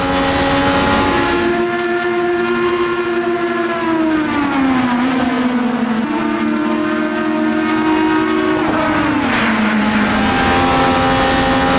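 An IndyCar race car engine in a racing video game, a loud continuous whine held steady, with the pitch dropping sharply twice as the car shifts up through the gears.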